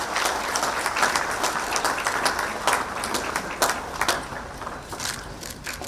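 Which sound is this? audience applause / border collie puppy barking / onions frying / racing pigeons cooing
audience applause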